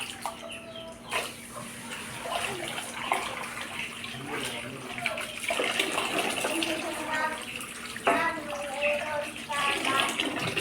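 Running water splashes as taro and sweet potatoes are hand-washed for a coconut-milk dessert in a rural provincial setting, a steady close trickle and slosh lasting throughout, with speech over it and a steady hum beneath.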